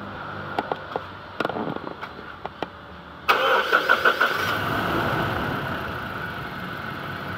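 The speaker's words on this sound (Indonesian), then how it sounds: "Jadi mesin ini setelah dihidupkan nampak begitu goyang-goyang" A Toyota Innova engine with a faulty ignition coil cranks and catches with a loud burst, then runs on with an uneven, rough misfiring idle; a few faint clicks and taps come before the start.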